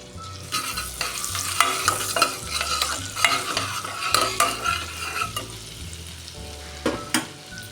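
Garlic and chopped green chili stir-frying in hot oil in a pan for a macaroni soup, a steady sizzle with repeated scraping stirs of a spatula, close and fairly loud, no talking.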